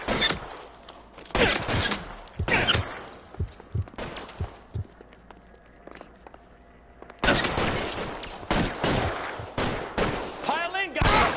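Bursts of covering gunfire in the 1940s Los Angeles crime game L.A. Noire, loud crackling volleys and single shots broken by short pauses, close, with voices shouting between.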